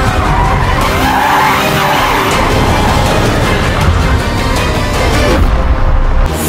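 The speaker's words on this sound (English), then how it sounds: "no traction control, all wheels spinning." A four-wheel-drive race car with no traction control spins all its wheels and skids in a loud, continuous roar of engine and tire squeal, close by, holding steady for several seconds before easing slightly at the end.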